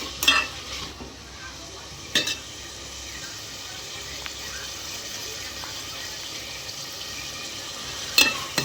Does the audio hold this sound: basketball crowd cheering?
no